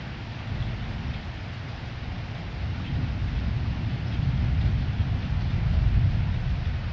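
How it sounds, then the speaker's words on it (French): Rain falls steadily in a dense, rumbling wash of noise that grows slightly heavier over the seconds, heard without any talking. "Alors que la pluie reprend."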